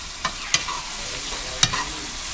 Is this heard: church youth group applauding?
no